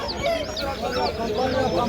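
Chickens cluck steadily at an Adana poultry and bird market where Brahma chickens and turkeys are sold, with a busy murmur of voices and market noise underneath.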